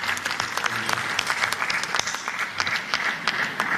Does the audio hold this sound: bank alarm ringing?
no